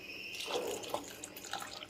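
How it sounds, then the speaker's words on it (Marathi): A brief, soft splash and trickle of cold water being poured into a bowl of homemade cream (malai) during whisking for ghee, quiet and close, with a couple of small drips. "थोडंसं त्यामध्ये ना थंड पाणी ॲड करायचं"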